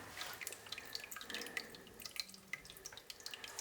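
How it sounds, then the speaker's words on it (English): Spring water dripping from a small drain into a little metal bucket inside an abandoned mine, a steady patter of close, irregular drips with no voices. "dripping water into this little metal bucket."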